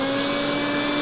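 Vacuum cleaner running in a sewing room with a shortened flexible hose, giving a steady, loud whine with strong tonal hum and no pauses, heard alone throughout.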